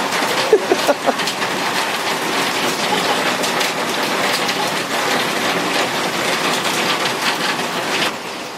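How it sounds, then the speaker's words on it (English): Steady rain pours down in Las Vegas, a dense continuous hiss of drops striking hard surfaces, with a few louder splashes near the start and no clear speech over it. "When it rains in Vegas, people rejoice."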